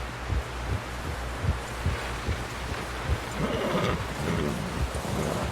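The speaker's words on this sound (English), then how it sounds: "Someone help John down off this horse" Horse in the Red Dead Redemption video game in a snowy setting, with repeated low thumps of hooves or movement and a brief whinny-like rise near the middle, over steady wind-like background noise; no talk.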